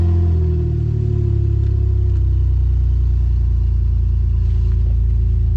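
A BMW drift car's engine runs steadily at a rough idle, a loud, close, continuous low rumble with faint clatter throughout and no voices.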